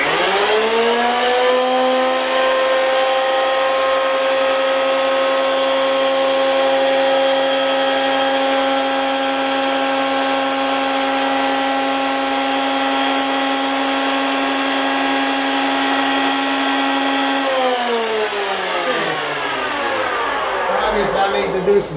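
Jet JJP-10 jointer-planer running loudly and steadily for about 17 seconds as a piece of poplar is planed, then winding down with a falling pitch, no talk over it.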